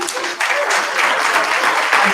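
A forum audience at a mayoral candidates' meeting breaks into steady, dense applause, a continuous crowd clapping that holds at full strength through the whole stretch with no one speaking over it.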